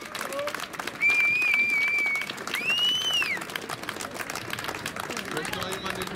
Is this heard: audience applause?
yes